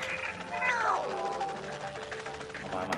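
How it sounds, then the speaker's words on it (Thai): A cat meows in a Thai-language video game set in a laboratory, a rising and falling cry near the start with a fainter second call near the end, heard over background game sound and a speaking voice. "มันเป็นแมวนะครับ"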